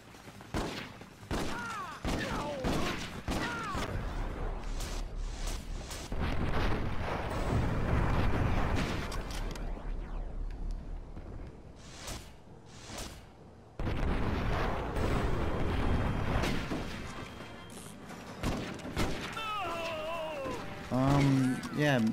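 Gunfire in the video game Red Dead Revolver comes as dense, loud bursts and booming shots layered with game music and effects, while someone talks over much of it.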